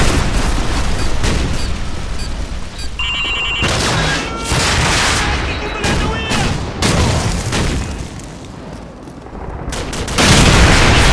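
Explosions and gunfire from the video game Call of Duty 4: Modern Warfare, with loud repeated booms and shots packed throughout, a sustained blast near the end, and voices calling out over the combat.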